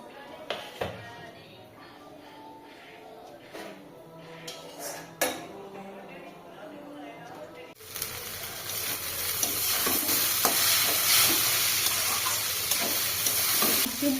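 Vegetables and chow mein are stir-fried in a pan: light metallic clinks and scrapes of a utensil at first, then a loud, steady sizzle with ongoing stirring and clatter against the pan, with voices faintly in the background.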